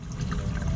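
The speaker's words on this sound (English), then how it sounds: "Predicting where the stream of oil is gonna land." Engine oil draining from an SUV's oil plug, a brief steady pouring trickle with a low liquid splatter, close by, with no talking.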